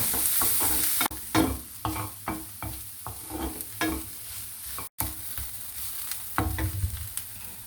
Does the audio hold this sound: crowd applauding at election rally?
no